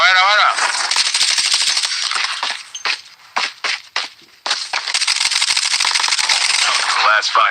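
Rapid automatic gunfire from a Call of Duty Mobile match rattles loudly and almost continuously, broken by a few short pauses and single cracks, with a voice speaking faintly beneath it.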